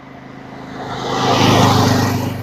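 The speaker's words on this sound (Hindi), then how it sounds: "देखो गाड़ी आ रहा है, शायद एक आगो गाड़ी भी आ रहा होगा" A vehicle approaches along a foggy rural road in bitter cold, its engine and tyre noise swelling steadily from faint to fairly loud as it nears, with no talk over it.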